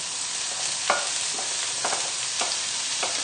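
Carrot, red onion, garlic and rosemary fry in hot oil in a saucepan on a high burner, making a continuous loud sizzle broken by several scraping stirs, with no voices.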